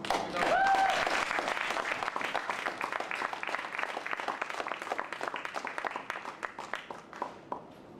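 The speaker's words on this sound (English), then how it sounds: "You get round applause." Audience applause at a Newtown remembrance tribute performance: a dense, loud burst of clapping from a crowd that gradually thins and softens over several seconds.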